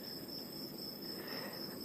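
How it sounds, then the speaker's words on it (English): Steady, dense insect chirring from crickets or cicadas fills a quiet night on Kokrobeita beach in Ghana, a constant high trill with a soft low wash behind it, unbroken and fairly faint throughout. "the sound of the crickets or cicadas"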